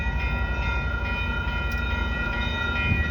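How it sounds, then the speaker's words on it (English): An EXO commuter train coming into the Sainte-Rose station area: a steady, loud rumble of rail wagons with sustained tonal whine running through the whole stretch, no talking. "Here's a train coming."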